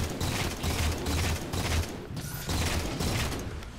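Rapid gunfire in the Halo video game rattles in quick sustained bursts, loud and mechanical, with a brief gap midway before the shooting resumes.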